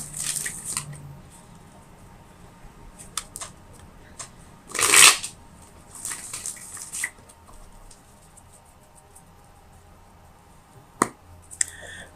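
Tarot cards being shuffled in bursts of papery riffling and flicking, with one louder riffle near the middle and sparse soft taps between, close and fairly quiet with no talking.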